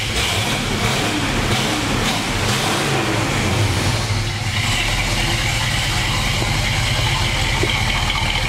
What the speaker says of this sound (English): It's got the trumpets on the exhaust.